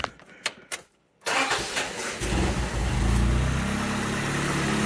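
A car engine cranks with a few short clicks and a brief pause, then catches and settles into a steady, smooth idle after a vacuum hose was reattached; close and fairly quiet, no talking.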